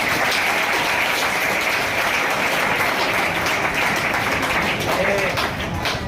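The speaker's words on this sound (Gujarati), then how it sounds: "એમના માટે જોરદાર તાળી પાડી." An audience at a career guidance seminar applauds with dense, steady clapping that fills the space evenly and stays loud throughout.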